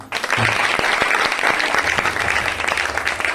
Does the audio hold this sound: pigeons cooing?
no